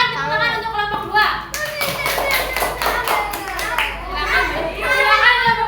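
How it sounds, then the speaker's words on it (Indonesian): Classroom of students clapping for a student group after a presentation, crisp close handclaps mixed with children's chatter and voices throughout. "Silakan tepuk tangan untuk kelompok 2."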